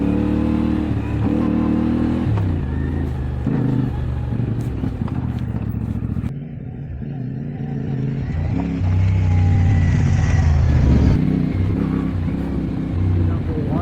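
A CFMOTO 450MT IBEX450 adventure motorcycle rides off the main road onto a Blue Mountains trail in 40-degree heat, its engine revving and rumbling throughout, with a louder burst of throttle late on and a voice talking over it.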